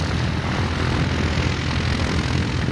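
Light propeller aircraft on final approach at Sywell airfield during the LAA Rally, a loud, steady engine drone filling the air without a break and with no talk.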